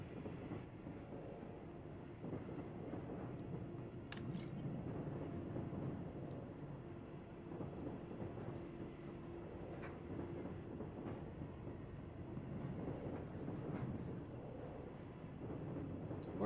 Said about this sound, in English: You should hear just faint like train tracks or like train sounds.